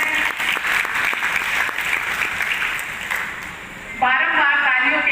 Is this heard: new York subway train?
no